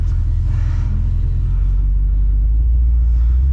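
Low, steady engine rumble from a 1977 Chevrolet Suburban as the drive begins, loud and continuous from inside the cabin, with no one speaking.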